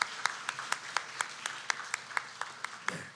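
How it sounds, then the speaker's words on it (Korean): A church congregation claps together in welcome for a visiting missionary couple who plant churches in Uzbekistan. The applause is steady and sparse, with sharp individual claps landing in a loose rhythm over a few seconds. "축복의 박수 하도록 하겠습니다"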